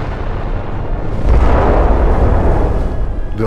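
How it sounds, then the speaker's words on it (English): The magazine of the battleship Hood explodes in a heavy, roaring blast that swells after a moment into a sustained deep rumble, loud and dense, with no voices. "The Hood's magazine has been hit. The explosion breaks the ship's back."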